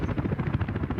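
Helicopter rotor thrum from the Soviet-era city-building game Workers & Resources: Soviet Republic, a steady pulsing chop that stays loud and continuous through the whole moment, with no voices over it.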